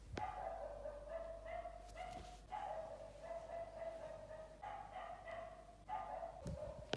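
A street dog barks in a run of short, sharp yaps spaced across the stretch, moderately near, over a steady low background hum with no talking.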